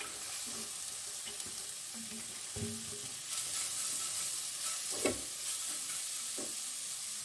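Cabbage and vegetables for a veg spring roll filling stir-fry in a hot pan, giving a steady close sizzle with occasional soft knocks and scrapes from stirring, without any voices.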